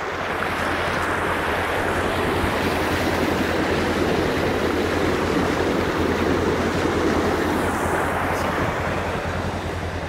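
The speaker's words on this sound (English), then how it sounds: "Just the force of that water going underneath this bridge." Floodwater rushes under an old timber-log bridge during flooding on the NSW Mid North Coast, a loud, constant roaring wash with steady low rumble and no voices.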